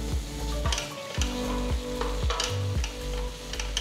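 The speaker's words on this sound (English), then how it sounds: "Quickly mix it." Spicy squid masala with lemon juice sizzles loudly in a pan as a spoon stirs it briskly, each rhythmic stroke scraping and clanking close up over constant frying hiss.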